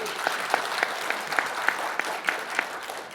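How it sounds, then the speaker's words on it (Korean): Applause from the audience at a Seoul policy forum for a team leader, brisk clapping from a modest crowd with a few sharp, distinct claps standing out in rhythm over a soft, even background of hands. "우리 차영호 팀장님께 큰 박수 부탁드립니다."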